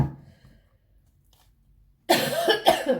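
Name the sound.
coughing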